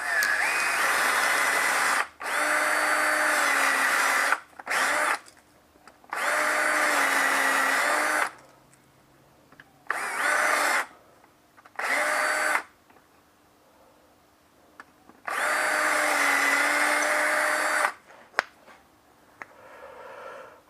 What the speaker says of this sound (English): I drilled a pilot hole.